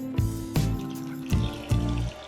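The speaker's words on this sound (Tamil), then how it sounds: "அதனால் கொஞ்சமாக தண்ணி ஊற்றிக்கோங்க." Water is poured into a cooking pot of gooseberries for pickle in several short, separate pours, each a brief close splash and gurgle.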